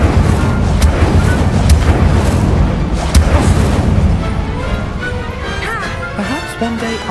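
An Incendio fire spell cast during a Hogwarts Legacy spell duel, with several sharp magical bursts and booms early on, then fading into softer tonal effects.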